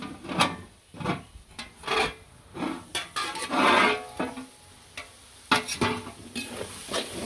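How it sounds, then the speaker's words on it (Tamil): Chicken kothu is stirred in a pan with repeated scraping, rasping strokes in an uneven rhythm over a light sizzle, close and distinct. "கிண்டி விடுவோம், மூடி விடுவோம்."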